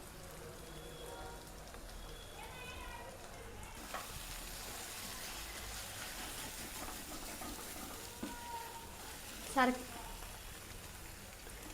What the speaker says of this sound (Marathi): मेथी छान परतत राहायची, म्हणजे खाली लागणार नाही।